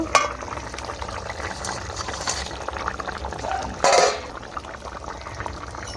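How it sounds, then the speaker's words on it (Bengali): Chandana fish curry bubbles in a pot on the stove, a close, steady simmering burble with a brief louder gush midway. "মাছটা দিয়ে একটু ফুটিয়ে নেব।"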